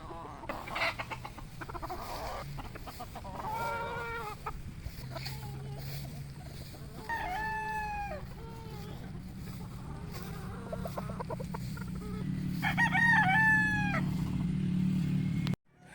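Gamefowl chickens cluck and a rooster crows several times in the distance on a gamefowl breeding farm, over a steady low engine-like hum, with occasional faint voices.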